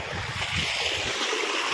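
Irrigation water rushes continuously into a groundnut field in a steady broad hiss, close and fairly loud, with no voices.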